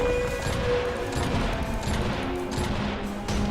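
In the video game Iron Brigade, an artillery cannon fires in a dense, continuous barrage of booms and crashes during a boss fight, loud and sustained with mechanical clatter under it.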